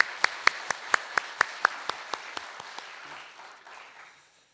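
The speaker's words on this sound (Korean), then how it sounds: "우리 찬양대 새로운 멤버들과 우리 찬양대 전체를 위해서 격려의 박수 한번" A sparse round of clapping from a church congregation for the choir, about a dozen distinct slow claps that gradually soften and thin out before fading to near quiet.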